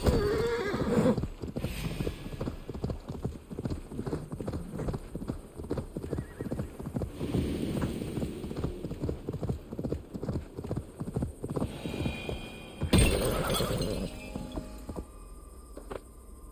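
A horse gallops with a steady, rapid clip-clop of hooves in the video game Assassin's Creed Valhalla, with a neigh or whinny breaking through; someone talks briefly over it.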